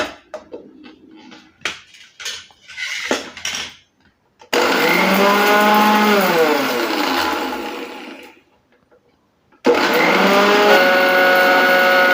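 After some rattling and clinking of the jar, a mixer grinder loudly grinds dried young haritaki into powder in two long, steady whirring runs. It stops briefly in between, with no talking.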